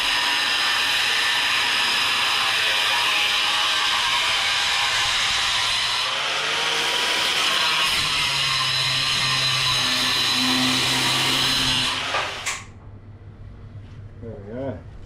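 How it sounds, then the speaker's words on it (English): An angle grinder cuts through a weld on a trailer being restored, a loud, steady high-pitched grinding whine that runs close for about twelve seconds, dips and swells as it bites, then cuts off abruptly and leaves a quiet tail. "I get the grinder, cut that"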